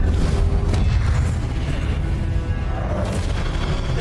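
A heavy, rumbling magical blast from the Confringo fire spell in Hogwarts Legacy, a deep boom at the start that rolls into a sustained low roar and fades, with a second surge near the end.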